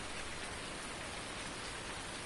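Steady rain falls in Farming Simulator 19, a constant even hiss of drops with no break, fairly soft and unchanging.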